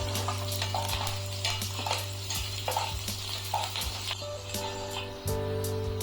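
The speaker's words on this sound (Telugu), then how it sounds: "ఆయిల్ హీట్ అయిన తర్వాత సన్నగా చాప్ చేసుకున్న గార్లిక్, పచ్చిమిర్చి, కొద్దిగా కరివేపాకు వేసుకొని ఫ్రై చేసుకుందామండి" Finely chopped garlic, green chilies and curry leaves fry in hot oil with a steady close sizzle. A spoon clinks and scrapes against the pan at intervals over a low background hum.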